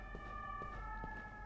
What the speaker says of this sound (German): Krankenwagen fährt vorbei.